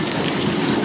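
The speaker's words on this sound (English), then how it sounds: "Train's moving." Steady, loud, close rumble and rattle of a moving train, heard from on board as a continuous broadband roar with no talking.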